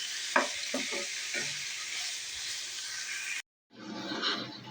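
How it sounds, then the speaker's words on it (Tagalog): Bitter gourd (ampalaya) and pork deep frying in a pan, a steady close sizzle with a few stirring scrapes early on, then a brief silence before the loud sizzling resumes. "deep fry ampalaya with pork"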